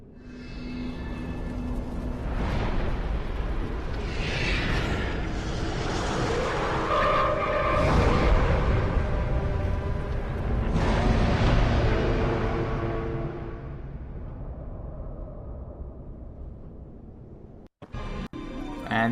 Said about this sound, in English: She can now create fire pillars.